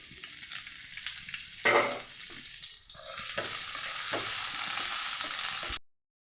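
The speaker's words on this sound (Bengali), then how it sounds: "কুচুনো আদাটা দিয়ে দেবো আর কুচুনো লঙ্কাটা দিয়ে দেবো" Chopped ginger and green chilli frying in hot oil with fennel and cumin seeds for a vegetarian paneer dish, a loud, steady hissing sizzle with a brief louder burst as the pan is stirred, no voices.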